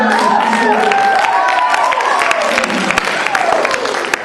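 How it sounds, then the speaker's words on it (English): An audience claps for Angela, a steady wash of applause lasting several seconds under voices and tonal sound, tapering slightly at the end. "everyone clap for Angela"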